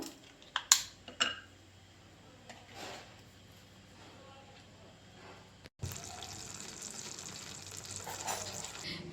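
Butter melts in a pan for a homemade cake. A few sharp clinks and taps are followed by a sudden, steady broadband sizzle that continues to the end, close by.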